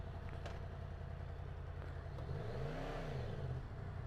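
A motorcycle, either a 2023 Yamaha MT-10 or a 2022 Triumph Street Triple RS, runs steadily on the road, then its engine note climbs in a rising rev as it accelerates, loud and close with constant wind noise.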